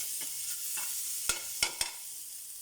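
Garlic sautéing in oil as the start of a tomato sauce for fish, a soft steady hiss with a few sharp clicks of a utensil against the pan and no talk.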